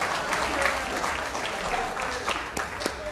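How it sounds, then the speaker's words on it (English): An audience at a school lecture-series event applauds in a steady wash of clapping with a few sharper individual claps standing out, moderately loud, with a voice faintly underneath. "May I give this man a round of applause?"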